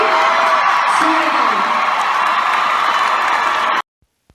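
Loud crowd cheering and whooping at a campaign event, a dense roar with clapping and shouts that cuts off abruptly to near silence before the end.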